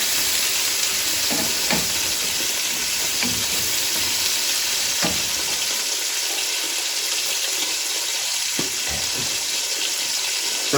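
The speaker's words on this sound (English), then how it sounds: "I'm adding some white wine in here so it can cook off all the bits that are stuck at the bottom of the pan" White wine poured into a hot pan while cooking coq au vin d'Alsace, giving a steady loud sizzle with scattered stirring scrapes and taps, fairly close, with no talking.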